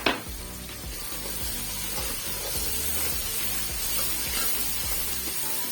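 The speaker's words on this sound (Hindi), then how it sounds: "यहाँ पे हम इसमें दही का डाल देते हैं बिल्कुल" Yogurt going into a pot of rice for black chickpea pulao, with a steady, fairly quiet sizzling hiss from the hot pot throughout and no talking.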